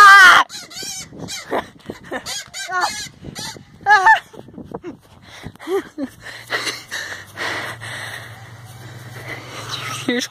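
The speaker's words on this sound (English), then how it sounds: "I got this chicken chasing after me," A mean guard-dog chicken chases a person, its squawks and clucks sounding in quick bursts close by, mixed with gasps and excited shouting, followed by louder outdoor noise as the chase goes on.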